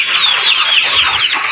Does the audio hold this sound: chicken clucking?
yes